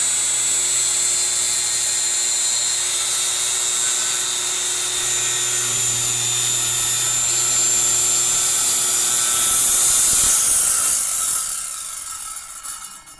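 A saw disc cuts through wood with a loud, steady high-pitched whine that swells near the end and then winds down as the cut finishes. No one speaks.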